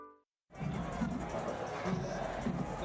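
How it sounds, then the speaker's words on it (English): A large stadium crowd fills Bragg Stadium in Tallahassee before a FAMU versus West Florida football game, a steady, dense roar of distant voices and murmur that continues without a break after a short silent gap. "Good crowd on hand."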